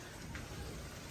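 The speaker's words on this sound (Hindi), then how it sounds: "तूफ़ान और साथ बारिश जो है वो आ चुकी है" Light rain falls during a storm onto an open courtyard floor, making a faint, steady, even hiss with no voices.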